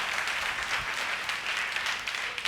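Worship congregation clapping hands together in church, a fairly quiet, even patter of many hands sustained for a few seconds with no speech on top.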